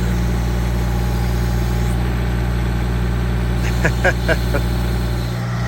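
Low, steady rumble of an idling tractor engine, constant and close, with a few brief clanks near the end.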